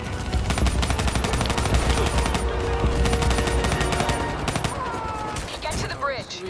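Dense, continuous gunfire from Call of Duty: Black Ops 3 rattles in rapid automatic bursts and overlapping shots, loud and close, with voices faintly mixed beneath.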